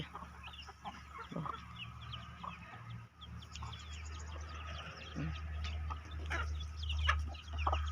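Chickens clucking and chattering at close range, with overlapping bird calls and a steady low background hum throughout.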